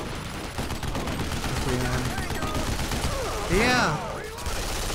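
Turret gunfire in Duke Nukem Forever, a dense, continuous rattle of rapid shots that stays loud throughout, mixed with game effects while a voice speaks briefly over it.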